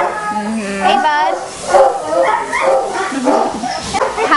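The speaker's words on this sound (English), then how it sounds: "this dog, house-broken dog, has been living here in a cage" Dogs bark and yip at an animal shelter kennel where a house-broken dog is caged, the yelping and whimpering coming in repeated bursts beside the steady hum of the building.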